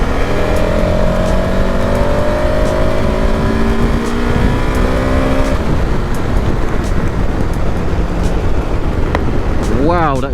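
A 2023 KTM 1290 Super Adventure motorcycle accelerating hard on a wet road, its loud engine note climbing steadily through the gears under heavy wind noise for several seconds before fading and rising again near the end.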